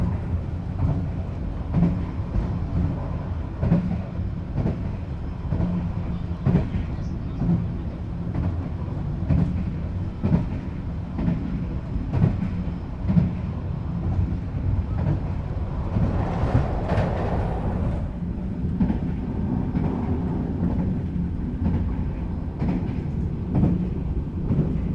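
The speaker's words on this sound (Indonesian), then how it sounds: "Kereta api Dharma Wangsa baru saja tiba di stasiun" Dharmawangsa passenger train pulling into a station in Cirebon Regency, a steady loud rumble with rhythmic wheel clatter and metallic rattles running throughout, no voices.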